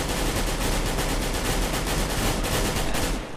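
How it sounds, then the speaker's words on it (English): Sustained rapid automatic gunfire in Counter-Strike on the Mirage map, fired through a wall, loud and continuous with closely spaced shots, cutting off abruptly at the end. "if you're able just to shoot through this wall, go ahead and shoot through it."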